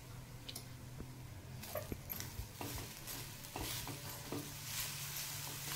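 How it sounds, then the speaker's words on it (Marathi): Jaggery and roasted coconut stirred in a pan over a low flame, a steady soft sizzle with repeated scraping strokes of a spoon against the pan. "ते गूळ थोडं वितळेस तोपर्यंत चांगलं परतून घ्यायचं बारीक गॅसवर"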